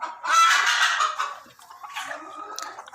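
Desi hens clucking and squawking close by, a loud burst of overlapping calls that eases into softer, scattered clucks.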